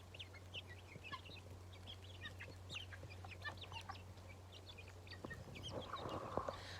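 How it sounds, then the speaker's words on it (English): Cochin chickens cluck softly in a backyard homestead on a rainy day, scattered quiet clucks and calls over a low steady hum, growing a little busier near the end. "I love my chicks."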